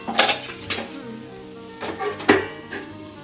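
A cooking pot of beto greens (bathua) with bori dumplings gets its lid set on, giving a few close metallic clinks and clatters in an otherwise quiet kitchen.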